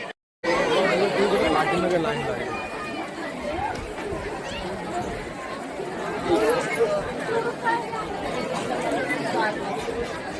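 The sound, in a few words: large crowd of devotees queuing at Ekvira temple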